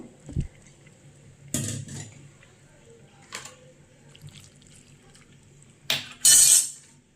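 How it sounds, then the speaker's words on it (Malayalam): Washed squid dropped into a cooking pan, giving a few scattered clinks and wet knocks of utensils against the pan with drips of water between them, close and intermittent, ending in a louder clattering splash. "വൃത്തിയായി കഴുകി വെച്ചിട്ടുള്ള കൂന്തലിനെ നമുക്ക് നമ്മൾ ഉണ്ടാക്കാൻ പോകുന്ന ചട്ടിയിലോട്ട് ഇട്ട് കൊടുക്കാം"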